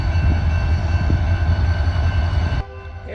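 A train at an Oklahoma station rumbles steadily with a deep engine drone and a sustained horn tone as it begins pulling out, loud and close, before the sound abruptly drops lower near the end.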